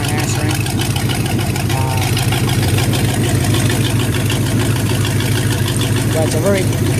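A Mariner 350 marine engine idles after start-up with a loud, steady, rumbling drone that holds constant throughout, while a voice may sit faintly beneath it.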